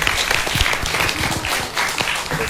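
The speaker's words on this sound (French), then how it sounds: "On applaudit très fort." Loud applause from an audience honouring a Niger youth robotics team headed to a world robotics challenge, brisk close clapping with some voices mixed in.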